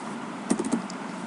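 A few quick keystrokes tap on a computer keyboard while writing Visual Basic code, a short cluster of light clicks in an otherwise quiet room.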